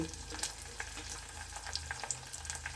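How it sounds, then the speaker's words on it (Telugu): Dried red chillies crackle in hot oil with green chilli, onion and ginger, giving a faint, close sizzle dotted with small pops, with no voices. "పచ్చిమిర్చి ఉల్లిపాయలు కొన్ని అల్లం ముక్కలు కూడా సన్నగా తరిగేసాను ఇప్పుడు ఎండుమిర్చి"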